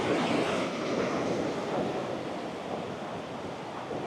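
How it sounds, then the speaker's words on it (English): Ocean waves and surf roll steadily at Balangan Beach near Uluwatu, Bali, a broad continuous wash mixed with wind buffeting the microphone, with no talk. "Oh, the ocean."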